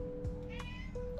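A pet cat meows once in a short, clear call at moderate distance, set against a quiet indoor background with a faint steady hum.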